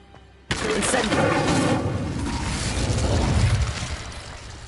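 Hogwarts Legacy's Incendio fire spell erupts abruptly after a quiet moment, then roars as a sustained crackling burst of flame that slowly tapers off, loud and close.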